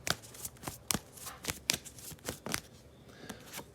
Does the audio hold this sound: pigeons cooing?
no